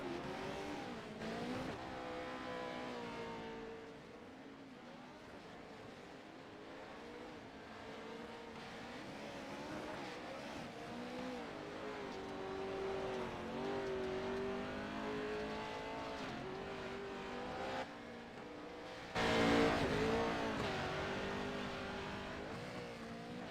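Off-road race trucks roar around a track with big jumps, engines rising and falling as they rev and accelerate, a sustained, fairly distant motor drone with one louder surge near the end and no voices heard.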